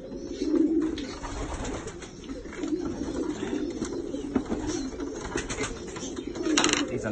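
Pigeons at a breeders' pigeon show coo in soft, repeated rolling calls, close by, over a steady murmur of hall noise.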